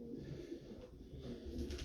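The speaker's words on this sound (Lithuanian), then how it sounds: "mano veisliniai balandiniai" Low, faint cooing of breeding pigeons inside a loft, a soft murmuring rumble with no voices over it.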